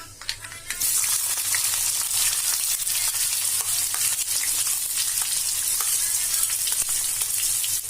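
Chopped onions hit hot oil with crackling mustard seeds and cumin, bursting into a loud, dense, continuous sizzle that holds steady close up after a quieter first moment.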